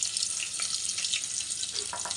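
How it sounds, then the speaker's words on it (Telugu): Chopped onions sizzle steadily in a hot pan as the first step of an egg curry. The hiss is loud and close, with occasional stirring scrapes and no talking. "ఆనియన్ అయితే వేసేస్తుంది మా మౌనిక చూడండి."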